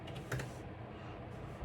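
Soft keystrokes on a computer keyboard in a studio, a few quick faint taps over a low background hum.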